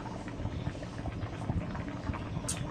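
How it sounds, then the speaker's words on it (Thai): Chicken and pickled bamboo shoot curry bubbling steadily in a pot, a dense continuous simmer with irregular pops, moderately close and without talk. "แกงเดือดได้ที่แล้วเนี่ยครับ"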